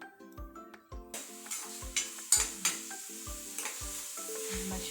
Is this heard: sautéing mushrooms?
yes